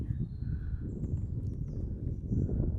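A donkey walks outdoors, its hooves clip-clopping steadily at a moderate distance beneath a low rumble of wind, with faint birdsong above.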